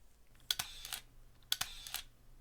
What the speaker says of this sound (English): I have an M9 and we can shoot the shutter and see if people